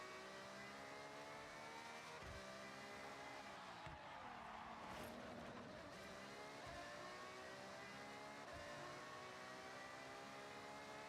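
Engine of a car in the video game Forza Horizon revs steadily at high pitch, a sustained screaming drone that rises and swells briefly midway, quiet overall with no talk.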